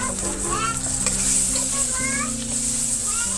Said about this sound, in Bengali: রান্নার এই মশলাটা যখন কষানো হয় সেই সেটা এত সুন্দর হয়, এটা শুনলেই মনে হয়